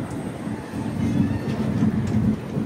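An Indian Railways weekly superfast express from Chennai Central to Visakhapatnam, hauled by a WAP-7 electric locomotive, rumbles steadily along as a low continuous roll of wheels and carriages with faint high squeals, no one talking.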